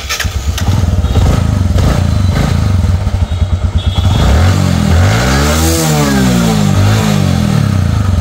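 A 2021 Bajaj Platina 100cc motorcycle cranks and starts, then settles into a loud, steady idle, with a couple of rising revs near the mic.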